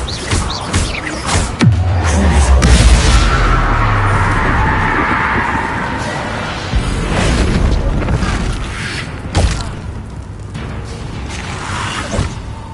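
A heavy blast from the Bombarda spell in Hogwarts Legacy lands with a deep boom and a rushing whoosh, followed by rumbling debris and more thuds and impacts across the game scene.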